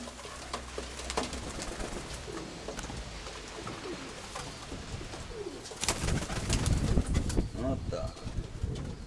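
Pigeons cooing nearby in a loft among handled birds, soft low repeated coos under a person talking, with rustling and a louder flurry near the end.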